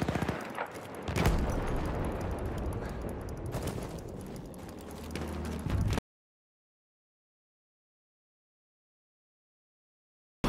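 Gunfire in the World War I shooter Battlefield 1, a dense run of shots and cracks at moderate loudness for about six seconds, then abrupt silence.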